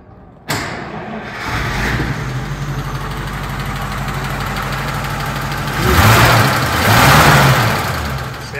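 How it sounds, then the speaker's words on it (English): A 1948 Pontiac Silver Streak 8 woodie station wagon cranks and fires up, then settles into a steady, close inline-eight idle with a brief rise in revs near the end. "you turn the key and you depress the start button with your foot"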